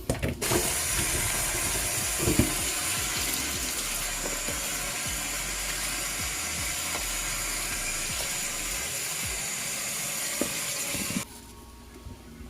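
A kitchen tap runs in a strong steady stream while food is rinsed for Jamaican pumpkin chicken soup, a continuous close splashing rush that stops abruptly near the end.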